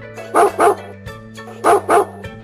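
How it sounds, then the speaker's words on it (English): Dog barking in a children's alphabet phonics song, two pairs of short loud barks in a double rhythm, clear and close over a steady low musical drone. "D is for dog."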